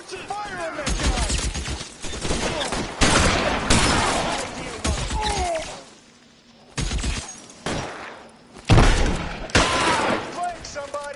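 Loud bursts of gunfire from the video game L.A. Noire, repeated volleys and heavy shots in clustered blasts with short pauses, mixed with game voices shouting over the shooting.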